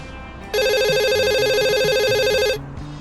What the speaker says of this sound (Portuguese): O telefone tocou, estridente, um alarme de incêndio na minha paz podre.